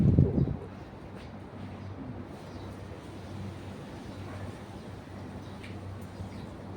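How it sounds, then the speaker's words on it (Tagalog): Steady wind blows outdoors in Kuwait, a low continuous rumble buffeting the microphone with a brief louder gust at the start and no one speaking. "mahangin talaga sa Kuwait"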